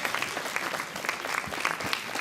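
Audience applause at a political party gala, a steady crowd of hands clapping in a large room, heard alone with no talking over it.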